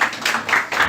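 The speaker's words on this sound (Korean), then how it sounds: "박수 한번 같이 칩시다." A church congregation at a Sunday service claps together in a short burst, a few broad rhythmic clusters of hand claps close and fairly loud, with no talking.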